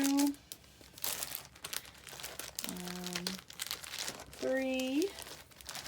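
Sheets of paper rustling and crinkling as they are handled and sorted, a dry crackle running through the clip beneath a person talking, with a few brief tonal sounds that could be a voice or squeaky handling.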